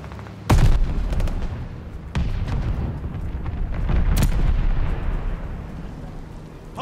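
Sharp explosions and heavy gunfire in the World War II shooter Call of Duty: Vanguard during a Hardpoint match on PS5, with three loud booming blasts spaced a few seconds apart over a constant rumble of battle.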